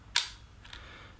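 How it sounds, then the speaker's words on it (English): A Rollei 35 compact 35mm film camera fires its shutter in a quiet, crisp click, followed by a fainter second click a half second later, close and isolated against low background hiss. "The shutter sound is really quiet,"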